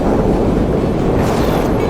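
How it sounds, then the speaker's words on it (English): Steady, heavy wind on a dusty planet in the video game No Man's Sky roars and rumbles continuously, low and blustery, with no other sounds standing out. "windy out here."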